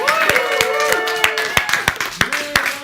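An audience claps at a live telethon performance in an art gallery, with scattered individual claps over a sustained tonal hum, fairly close.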